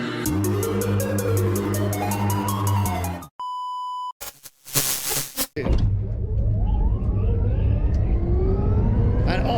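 Start of a Rimac Nevera electric hypercar launch at the Goodwood Festival of Speed: a loud engine drone, a steady electronic beep, then a rising whine as the car accelerates hard and pulls away.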